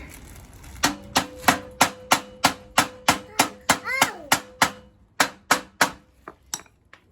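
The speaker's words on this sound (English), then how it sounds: "Just beat it in like that with the handle of a screwdriver." A screwdriver handle beats a part into a children's trike in a steady series of about twenty sharp knocks, close and loud, briefly ringing with a metallic tone midway before the rhythm resumes.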